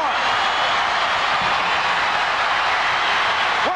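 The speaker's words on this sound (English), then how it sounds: "Listen to these fans" A wrestling arena crowd roars at Hulk Hogan against Andre the Giant, a dense, sustained wash of cheering noise that holds steady throughout without breaks.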